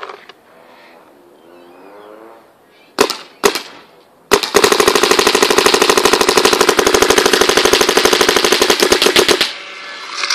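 A DM8 paintball marker fires a few single shots, then a long rapid burst of evenly spaced loud cracks lasting several seconds, close to the microphone.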